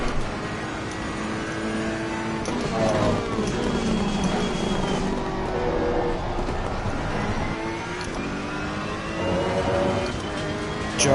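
GT race car engines in Assetto Corsa Competizione at the Misano circuit drone without pause, their pitch climbing and falling through gear changes as several cars run close together, with no talking.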